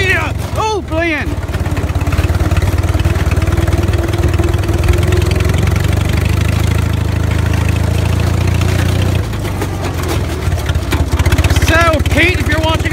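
Small carbureted engine idling steadily while cold, a continuous low rumble running throughout, with excited voices talking over it near the start and end.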